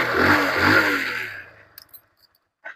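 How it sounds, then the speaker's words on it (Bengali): A Mahindra motorcycle engine starts on its electric self-start and runs loudly close by for about a second and a half before dying away, followed by a few faint clicks and a short knock. "প্রতি সেলফেই গাড়ি স্টার্ট"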